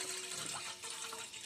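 A second glass of water pours into a pot on the stove, a continuous close splashing gush for its whole short length.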